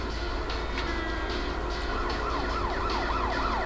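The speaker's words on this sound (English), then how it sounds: "And here come the cops." Police sirens wail in the Driver 3 video game, rising and falling over a dense bed of engine and traffic noise, growing clearer toward the end.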